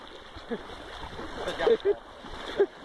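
Heavy rainwater runs down a ditch through a cornfield, a low rushing gurgle with a few small splashes, while a person talks over it nearby.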